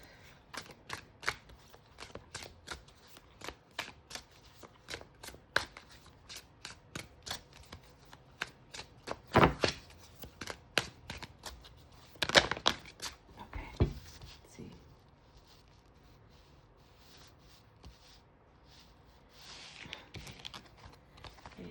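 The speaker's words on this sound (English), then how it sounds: "Shuffling these decks and then cards want to come out" Mixed tarot and oracle card decks are shuffled by hand close up, repeated crisp riffling flicks in uneven bursts with a few louder slaps and quiet gaps between runs.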